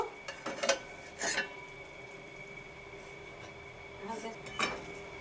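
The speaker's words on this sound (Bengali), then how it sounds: "এবার আমি ঢাকনা খুলে দেখব" A lid comes off a steel pot of simmering chara pona fish curry with amra, giving a few faint metallic clinks and scrapes spread across a quiet kitchen.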